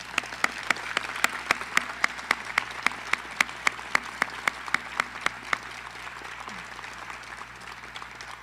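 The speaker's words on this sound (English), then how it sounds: "Can we give them a round of applause?" Scattered, sparse clapping from a small graduation audience honoring EMS cadet graduates, a few dozen distinct claps in a loose rhythm for about five seconds before trailing off into quiet room tone.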